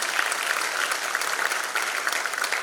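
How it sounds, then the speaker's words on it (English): Loud, close audience applause at a church graduation ceremony, dense and sustained clapping from a large crowd with no talking over it. "A round of applause for all of them."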